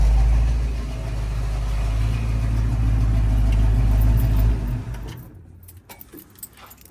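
Car engine left idling, a loud steady low rumble that cuts off after several seconds, leaving a quieter room with a few small clinks.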